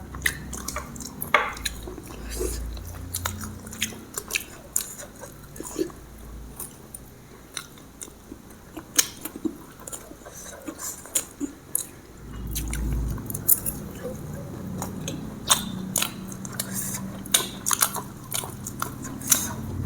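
Manchurian street food is eaten at close range: wet chewing, soft biting and squishy mouth sounds recur irregularly throughout, with small clicks and a low background rumble and no voices.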